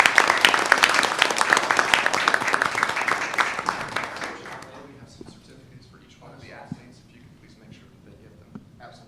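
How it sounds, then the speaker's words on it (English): Audience applause for young student athletes at a county board of education meeting, a dense burst of clapping that fades after about four seconds, leaving quiet room noise and a few scattered claps. "Let's give all of these young student athletes a big round of applause"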